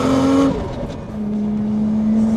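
A 1989 Toyota Soarer with a 1JZ engine built to about 600 horsepower revs hard as it accelerates, a loud, steady engine tone that dips briefly then climbs again, heard close from inside the car without talk.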